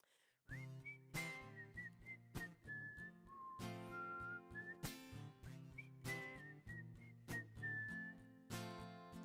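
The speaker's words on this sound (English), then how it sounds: "this is how the whistle goes" A person whistles a song melody, clear sustained tones with bright sliding notes carried over steady accompanying chords at a live music stream concert.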